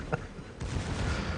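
Secondary battery guns on a World of Warships battleship fire at an enemy cruiser, one sharp shot followed by a heavier booming volley that rumbles on.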